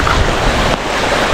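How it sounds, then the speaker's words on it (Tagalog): A strong current of water flows after heavy rain, a loud, close, continuous rushing and churning with some wind buffeting the microphone, no voices over it. "Ayan kalakas ng agos ng tubig."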